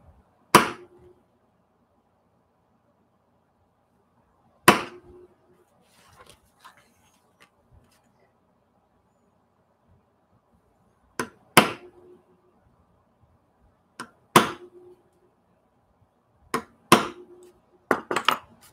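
A small hammer drives a metal hole punch through a paper journal on a mat, producing sharp, ringing metallic strikes, close up and separated by irregular pauses, some of them in quick pairs, with faint rustling in between.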